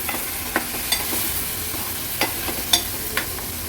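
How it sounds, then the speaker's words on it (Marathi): Washed cowpeas sautéed in oil with turmeric and masala in a pot, giving a steady soft sizzle broken by sharp intermittent scrapes and clicks of a spoon stirring against the metal, with no voices. "ह्या स्वच्छ धुतलेल्या चवळ्या आहेत त्या ॲड करूया व्यवस्थित तेलावर परतून घेते"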